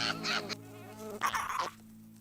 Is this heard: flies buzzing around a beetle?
yes